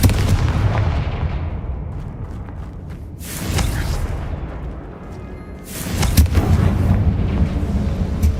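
A Confringo fire spell from a Harry Potter wizarding video game detonates with a booming explosion that rolls into a rumbling tail, and a second blast bursts out a few seconds later over continuous low battle rumble.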